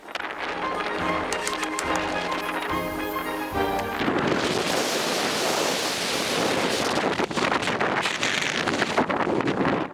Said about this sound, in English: Still a little windy up here.